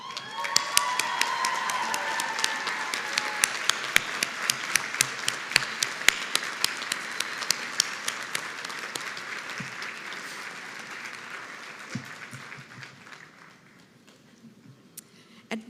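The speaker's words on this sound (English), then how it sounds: "I invite you now to stand and applaud our faculty and staff for their tireless devotion" Graduates at a 2023 commencement ceremony applaud faculty and staff with a large, dense wave of clapping that holds steady before thinning and fading to a few scattered claps at the end.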